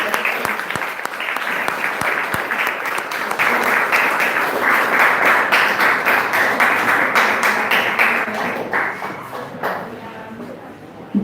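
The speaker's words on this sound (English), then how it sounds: "Now let's give all the students a super round of applause." Sustained audience applause for school students at an evening event at a school for children with special needs: dense, steady clapping from a large crowd lasting the whole stretch, slowly thinning toward the end.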